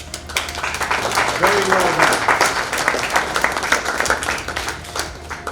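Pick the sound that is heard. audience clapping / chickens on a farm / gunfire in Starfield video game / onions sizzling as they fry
audience clapping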